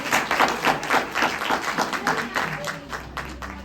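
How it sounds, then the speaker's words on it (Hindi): An audience at a church birthday celebration claps in irregular bursts, a fairly close, lively patter of hands that softens toward the end. "तालियां बजाओ इस बात पर।"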